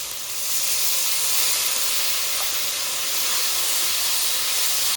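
Spice paste with turmeric and salt sizzles in a pan for a boal fish curry, giving a steady loud hiss throughout with no pauses or voices.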